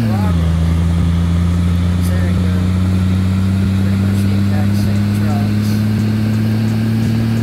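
A truck engine races in the Roblox game Greenville, a loud steady droning hum whose pitch dips briefly at the start and then climbs slowly, running continuously under players talking.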